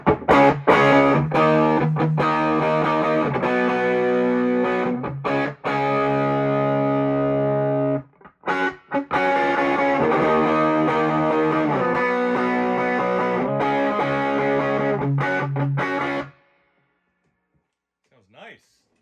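Heavily overdriven electric guitar played through a 1978 Fender Deluxe Reverb amp with its negative feedback nearly removed, loud sustained chords with brief pauses, ringing out into near silence at the end.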